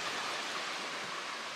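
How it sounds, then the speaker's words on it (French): Waterfalls pouring into lakes at Poligno, Greece, a dense steady rush of falling water heard close and continuous with no break. "aujourd'hui, on découvre les lacs et cascades de Poligno"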